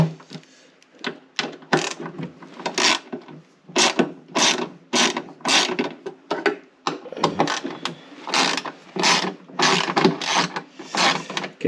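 Screws being removed from the heater box cover of a 1960 Edsel Ranger: repeated ratcheting clicks in short bursts, close and fairly loud, with no talking.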